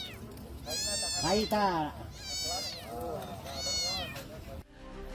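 Repeated plaintive meows from a cat trapped in a drain, several drawn-out cries fairly close, with a person speaking at the same time.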